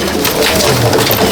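Madrasi pigeons coo in a breeding loft with young birds, a close, soft, continuous burble over a brief stretch.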